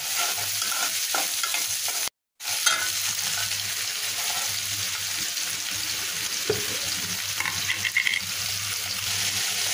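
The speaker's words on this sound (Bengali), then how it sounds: "আর একটু তেল দিলাম, পেঁয়াজটা ভেজে নেব" Onions fry in oil, sizzling steadily in a pan, with occasional stirring scrapes and a brief silent gap early on.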